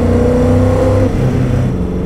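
A 1650 hp Speedkore Dodge Charger engine roars loud and close in a steady, strongly harmonic rev that dips slightly partway through and then holds on as the car pulls away.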